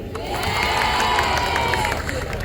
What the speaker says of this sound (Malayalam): അതിന് നിങ്ങളെല്ലാവരും എനിക്ക് വേണ്ടി കൈയടിക്കണം